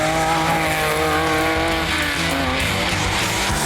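A Lancia Stratos rally car races along a San Marino rally stage, its engine roaring loudly and steadily at close range with rising tone, tyres scrabbling on the surface throughout, no voices over it.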